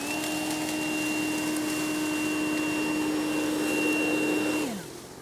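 A leaf blower blasts debris with a steady, high-pitched whine that holds for several seconds, then quickly winds down and fades near the end.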